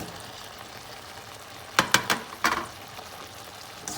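Capsicum being stirred into potato gravy in a frying pan, a low bubbling sizzle with a short cluster of scraping spoon strokes midway.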